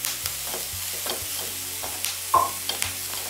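Capsicum, chicken and broccoli are tossed in a hot pan, giving a soft continuous sizzle with scattered scraping stirs and clacks, close and moderately quiet with no talking.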